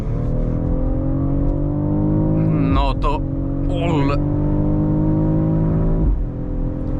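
A 2024 BMW XM 50e plug-in hybrid SUV engine hums steadily and builds as it accelerates, with a voice speaking briefly over the engine noise in the middle.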